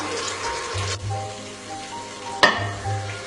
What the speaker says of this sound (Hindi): अब हम इन्हें लहसुन अदरक के साथ अच्छे तरीके से भूनेंगे